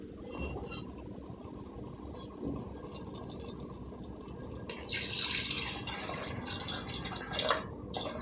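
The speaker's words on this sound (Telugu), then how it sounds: "చూడండి, గ్లాసు పావు వేసానండి నీళ్ళు." Water poured from a glass into a pot of mutton and potato curry, a steady liquid splash and fill that grows louder partway through, with no talking.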